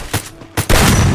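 Gunshots from Garena Free Fire: two short sharp cracks close together, then a louder sustained burst of fire, all near and loud with no talking.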